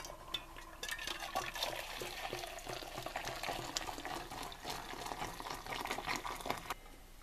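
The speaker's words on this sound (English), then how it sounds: "pour the water in there." Water is poured into an old fashioned coffee maker holding coffee grounds, orange peel and spice, a faint, steady splashing trickle for several seconds before it stops.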